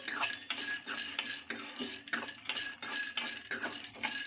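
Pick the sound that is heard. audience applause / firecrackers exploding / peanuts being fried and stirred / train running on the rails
peanuts being fried and stirred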